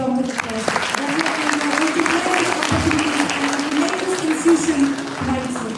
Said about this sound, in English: I request all the audience to give a big round of applause